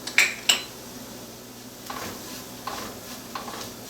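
Spices sauteing in a pot for black bean soup open with two sharp metallic clinks of utensil on cookware, then a faint sizzle with soft stirring scrapes, no voices.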